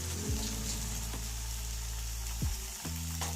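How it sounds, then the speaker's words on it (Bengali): Pieces of paneer sizzle steadily in hot oil, a close, continuous frying hiss with a few soft clinks, and no voices. "এবারে পনিরটাকে ভাজবো"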